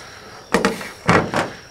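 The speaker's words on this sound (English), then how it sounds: "I want to take this and set it on top of my cab." A magnetic 50W 360° CREE LED spotlight is set down on a truck cab roof, giving a few close, dull metallic thunks in quick succession.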